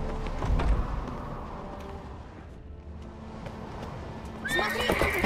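Horses in The Witcher 3 video game: a loud whinny rises near the end, with hoof clip-clops and background game ambience beneath it.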